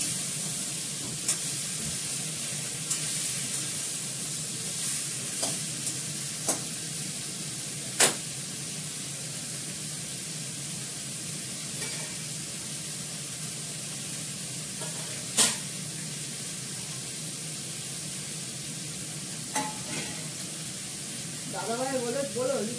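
Potatoes and raw green beans fry in a little mustard oil, giving a steady soft hiss that lasts throughout, with occasional clicks and clatters of a utensil against the pan and a voice speaking at times.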